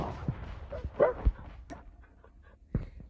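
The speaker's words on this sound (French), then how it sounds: "il va balancer ces putains de chiens" Dogs barking and whimpering in Call of Duty Mobile, a few short yelps and barks scattered over three seconds amid other game sounds, fairly faint and close.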